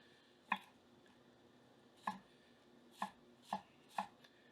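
A Japanese gyuto knife chops food on a board in five crisp, separate knocks with short gaps between them, close up and with no voices.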